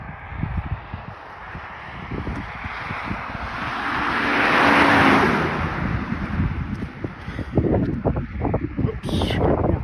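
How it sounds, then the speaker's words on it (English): A car passes on a road through Mount Hope Cemetery in Bangor, Maine, on a late November evening: a swelling whoosh that peaks midway and fades, with gusty wind buffeting the microphone throughout. "Oops, got more cars coming there."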